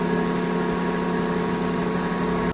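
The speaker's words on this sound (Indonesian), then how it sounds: "Jadi kita tunggu sampai kurang lebih 1 menitan lah, biar agak hangat juga mesinnya untuk pemanasan pagi lah" A Karimun Estilo with a 1000 cc engine idles to warm up on a cool morning, a steady, close mid-pitched hum that cuts off abruptly at the end.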